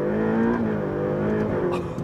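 Ferrari F8 Tributo engine droning steadily at close range, a rich, continuous mechanical tone that holds through a mild swell in revs without pause.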